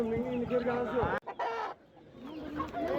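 A black hen at a poultry market clucks close by in a few short bursts, with brief pauses and a little background noise between calls.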